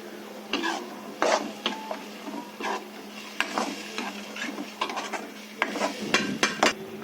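Paste goes into a pan of frying fish curry, with a run of scraping, clinking stirs against the pan and soft sizzle between the strokes.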